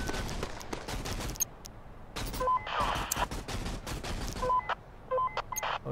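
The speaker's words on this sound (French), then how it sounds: "Ah, ça va partir en gunfight, là." Gunfire from the video game Invasion Machine erupts in sharp, irregular bursts and single cracking shots, with brief electronic beeps between volleys.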